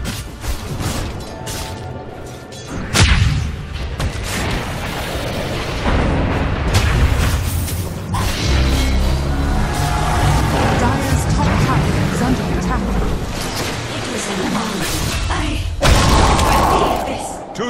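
Tower destruction in Dota 2: heavy booms and crashing thuds from a top tower under attack and collapsing, mixed with dense battle effects and an announcer voice throughout, loud and continuous for the whole stretch.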